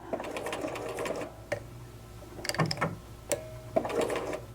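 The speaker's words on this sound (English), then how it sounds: "we are also going to backstitch, so just sew a couple of stitches" Sewing machine (Simplicity 8133) stitching a hem and backstitching, heard as short close bursts of mechanical whirring separated by pauses, with clicks between runs and no talk.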